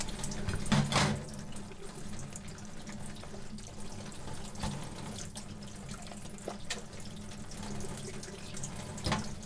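Saupe fish being cleaned and gutted under a running tap, a soft continuous stream of water into a sink with occasional brief splashes and handling knocks, quiet and steady with no speech.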